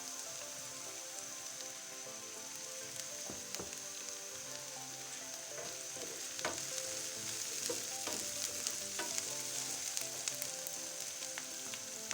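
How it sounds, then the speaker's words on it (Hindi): Onions and coriander fry over low heat in a pan for a chicken chana dal samosa filling, making a steady, close sizzle dotted with small crackles and pops, with no talking. "हल्के से प्याज़ों को भून लेते हैं।"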